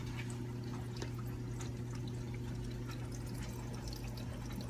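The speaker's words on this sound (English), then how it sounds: "Pouring detergent to appropriate amount." Liquid laundry detergent is poured from its bottle into a measuring cup, a soft continuous glugging pour under a steady low hum, quiet and close with no talk.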